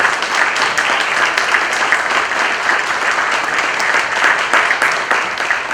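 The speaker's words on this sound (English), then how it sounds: "Let's give them a round of applause." A room of attendees at the 2021 City of Grimes candidates forum applauds the candidates, a steady, moderately loud patter of many hands clapping without pause from start to finish.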